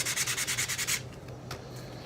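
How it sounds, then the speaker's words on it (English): Sandpaper rubs over a wooden wand in about nine quick, rhythmic back-and-forth strokes, close and scratchy, then stops, leaving a quiet room with one faint bump. "when you're sanding it, you start off with, like, a really rough, gritty sandpaper"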